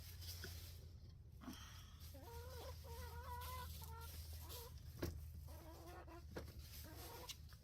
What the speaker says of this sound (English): Hey chickens, get out of here.